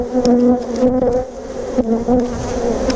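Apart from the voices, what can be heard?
honeybees buzzing at an open beehive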